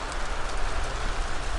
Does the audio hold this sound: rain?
yes